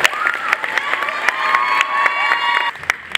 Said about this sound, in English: please give a round of applause to our planning committee, faculty, and volunteers that have made this possible